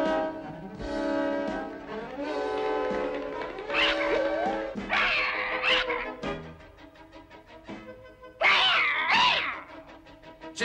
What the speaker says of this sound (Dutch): Ik moet die kat er vandaan zien te halen.